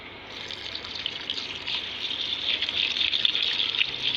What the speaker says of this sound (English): So I'm going to add my alcohol again.